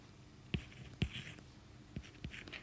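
A marker squeaks and taps across a board in a few short, separate strokes, close but faint, with quiet room noise and no talking.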